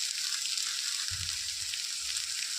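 Soft, steady sizzle of mashed taro frying with turmeric powder in a pan, with faint low thumps of stirring in the middle, heard up close and alone.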